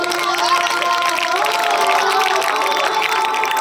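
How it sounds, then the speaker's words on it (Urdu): Schoolchildren at an Urdu upper primary school event clap their hands in a steady crowd applause with some cheering and shouting, continuous and fairly loud, with a song or voices over it. "تالیاں بجاؤ بیٹا"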